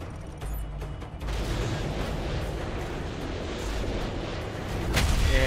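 A Predator missile strike in the video game Call of Duty: Modern Warfare 3 produces a sustained, heavy explosive roar with rumbling blasts, building louder toward the end with a final close boom.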